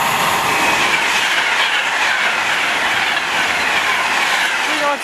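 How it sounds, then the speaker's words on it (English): A freight train from Felixstowe to Trafford Park passes close by at Tamworth, a loud continuous rumble and clatter of wagons with a brief wheel squeal near the end. "Here's your freight from Felixstowe to Trafford Park."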